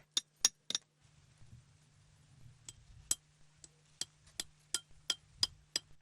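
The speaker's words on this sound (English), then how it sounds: "the selected flake is placed on a stone and trimmed into a scraper" Stone flakes struck between a hammerstone and a stone anvil while being trimmed into a scraper: a dozen sharp, clicking knocks, some in quick pairs, then a steady series of separate taps over a low hum.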